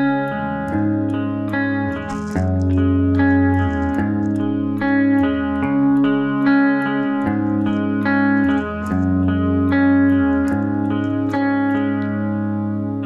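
Clean electric guitar arpeggiating a power chord shape, notes picked one after another in a steady repeating pattern with light chorus-like shimmer and reverb.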